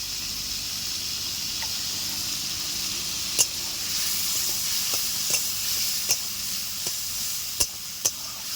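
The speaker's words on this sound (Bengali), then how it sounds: "চিংড়ি মাছগুলো প্রায় ভাজা ভাজা হয়ে আসছে" Prawns fry in a pan with salt and turmeric, giving a steady sizzle punctuated by several sharp spatula taps and stirring clicks, close and with no talking.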